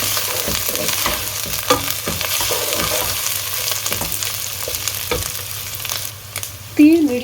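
Ginger paste frying in hot oil with onions for a gravy, a continuous close sizzle with intermittent spatula scrapes and stirring taps, ending in a short louder clatter.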